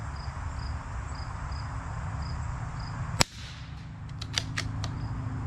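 A single sharp, loud .22LR rifle shot cracks out mid-clip over steady outdoor cricket chirping, followed by a short echoing tail and a few faint clicks afterward.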